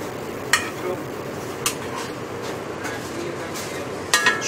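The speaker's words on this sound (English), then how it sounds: "So on go the gnocchi." Gnocchi in a restaurant kitchen go into a hot pan with a steady sizzle and a few sharp clinks of utensils against the pan, close and moderately loud, with no one speaking.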